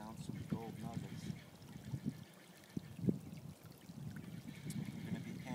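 A snowmelt creek near Big Bear flows with a soft, continuous trickle and rush of water, partly masked by someone talking over it.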